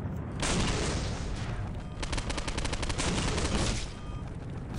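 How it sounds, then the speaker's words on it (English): Homing rockets in Postal 2 fire and explode in a dense, continuous barrage of loud blasts and crackling gunfire, with a rapid rattling burst in the middle, all fairly close. "Who is firing the homing rockets?"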